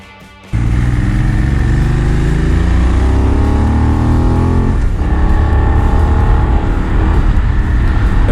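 A 2021 Benelli 752S motorcycle ridden along a curvy road: its engine bursts in loudly after a brief quiet and holds a strong, rising drone as it accelerates, dipping briefly before pulling again, close and without speech.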